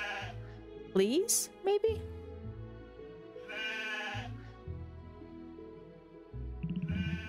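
Sheep in the video game Potion Permit bleat in a few clear, wavering calls over soft game music, while a person speaks briefly between them.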